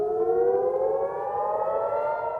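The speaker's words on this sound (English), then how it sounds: "As sirens wailed" An air raid siren wails near the Lebanon-Israel border, a loud sustained tone rising slowly in pitch over a low rumbling background, with no voices.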